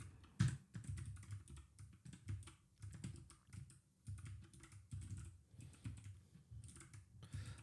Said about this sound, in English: That's awkward to type on this keyboard.